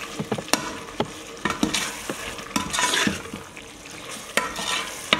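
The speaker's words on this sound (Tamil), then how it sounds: "நல்லா மிக்ஸ் பண்ணிக்கோங்க." Turmeric-marinated chicken being mixed for a pressure-cooker chicken biryani: a series of sharp stirring and scraping clacks against the vessel, irregular and fairly close, over a soft continuous background, with no talking.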